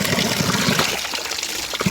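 Cold water from a natural mountain spring splashes and gurgles steadily at close range, a dense broadband rush with small bubbling pulses and nothing else over it.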